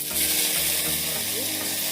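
Mustard seeds and dried red chillies sizzle and crackle in hot oil, a close, steady frying hiss with light stirring sounds.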